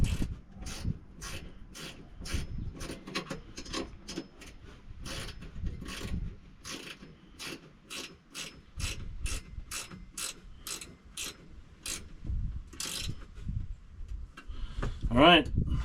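A nylon locking nut is tightened on a UTV cup holder, giving quick bursts of close ratchet clicking with soft scraping between strokes and a short squeak at the end.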